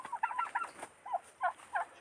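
Turkeys in an aviary gobble and cluck in short bursts, several rapid calls near the start and then a few separate gobbles, fairly close and clear, with no talking.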